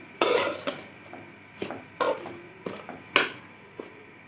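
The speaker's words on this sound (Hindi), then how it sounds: "और अब इसे मिक्स कर देंगे अच्छे से" A spoon scraping and clinking in a pan while semolina halwa is mixed with ghee, in several separate strokes about half a second apart, close and clear with no talk.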